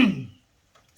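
A single loud, abrupt sneeze bursts out at close range and fades within a fraction of a second, followed by a faint short rustle.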